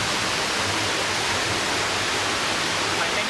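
Water pours steadily inside a Norwegian cave, a loud, unbroken rushing hiss like a waterfall that fills the whole moment without pause or voices.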